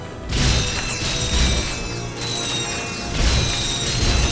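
The Walloper melee weapon in Ratchet & Clank lands loud metallic smashing blows with ringing, clanking mechanical rattles, three bursts of impacts in close succession.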